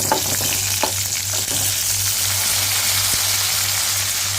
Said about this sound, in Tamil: சேர்த்துட்டு அதையும் ஒரு ஒரு நிமிஷத்துக்கு நல்லா வதக்கிக்கலாம்